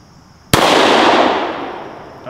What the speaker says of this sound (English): I'm gonna shoot the tombstone target from up here